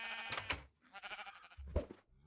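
Sheep bleat in the video game Magic Farm 2, a couple of harmonic cries standing out over a busy game soundtrack, with a short thump near the end.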